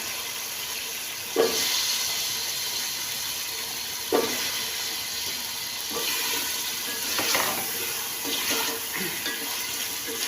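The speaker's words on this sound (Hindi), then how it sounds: "अभी ये मेरे पास आलू हैं, आलू को मैं भूनूँगी।" Potatoes frying in a pan, a steady sizzle and hiss with a few louder bursts as they are stirred or turned, close by, no talk.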